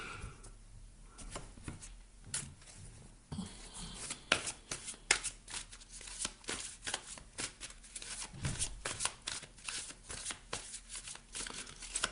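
Tarot cards are shuffled close up in a long, continuous run of crisp riffling and flicking, uneven in rhythm, with no voices.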